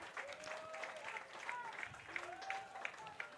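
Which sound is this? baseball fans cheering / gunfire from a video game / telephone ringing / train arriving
baseball fans cheering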